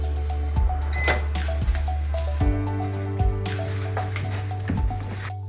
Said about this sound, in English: Then we take it and put it in the microwave for 30 seconds.